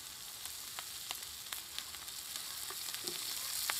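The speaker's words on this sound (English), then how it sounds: "we're gonna throw a little oil on there to help it crisp up" Carnitas pork fries in oil on a Weber grill with a soft, even sizzle dotted by scattered crackles and pops, fairly quiet and slightly building toward the end.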